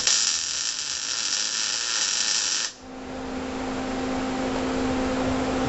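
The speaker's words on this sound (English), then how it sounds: "And you have a spot weld." Spot welder fusing a metal hopper part for a lawn leaf vacuum system: a steady high electrical buzz for a few seconds, then a sudden cutoff leaving a lower hum.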